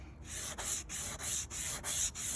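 A cloth rubs briskly against a 1999 Volkswagen Beetle's hard, smooth headlight lens, polishing it with Turtle Wax in steady back-and-forth strokes, about seven even passes, close and fairly quiet.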